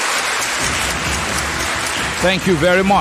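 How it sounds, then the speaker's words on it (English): Audience applause at a fan debate show fills the clip as a dense, crackling patter of clapping, with a voice speaking briefly over it near the end. "A round of applause should be in order."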